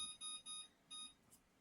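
A kitchen timer giving short high electronic beeps as it is set, three quick beeps followed by one more after a pause, fairly faint in a quiet kitchen.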